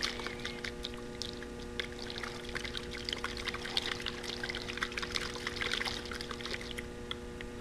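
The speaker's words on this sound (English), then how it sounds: "simply give it a good shake" Water sloshes and splashes in a plastic bottle used as a CO2 production chamber as it is shaken, giving a faint, continuous rapid swishing over a low steady hum.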